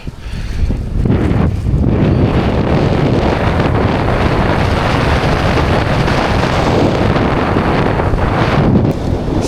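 Strong wind gusts while parawing riding on the water, loud continuous roaring wind buffeting the microphone, with brief lulls near the start and end and a constant rush throughout.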